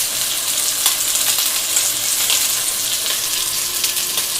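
A pork chop frying in a pan gives a continuous bright sizzle with crackling pops close by. The sizzle is steady and loud, and no one speaks.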